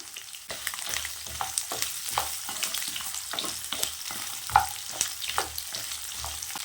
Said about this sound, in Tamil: இந்த மாதிரி நல்லா செவக்க தேங்காய் வறுத்துக்கோங்க